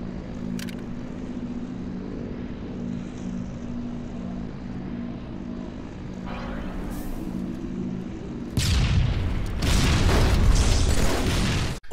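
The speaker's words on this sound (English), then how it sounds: "In Halo, the Master Chief Collection, MDP recorded this cool grenade stick." In the game Halo: The Master Chief Collection, a low rumbling hum builds before a grenade sticks and detonates in a sudden loud blast, followed by a heavy crackling roar.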